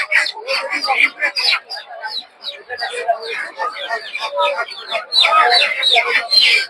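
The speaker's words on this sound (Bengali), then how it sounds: "সব হচ্ছে দেশি মুরগি ছয়শো সাড়েশো" Native local chickens and other fowl cluck and chirp in a dense, continuous chorus at a busy poultry market, with people talking underneath throughout.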